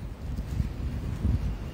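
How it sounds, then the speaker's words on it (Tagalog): Strong wind buffets the microphone in a steady low rumble with gusty swells, heard alone and up close for a short moment. "Malakas ang hangin."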